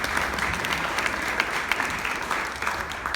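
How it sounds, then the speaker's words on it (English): An audience claps for Candice at a live Q&A event, a short burst of steady, dense applause that stays even throughout with no voices over it. "How about one more hand of applause for Candice?"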